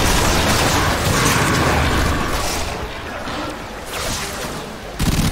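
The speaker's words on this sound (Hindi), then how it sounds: "यहाँ से गोलियां मार रहा" Gunfire rattles in dense, sustained bursts during a Warframe endless fissure survival mission, loud and continuous with booming mechanical effects, dipping briefly before a sharp renewed blast near the end.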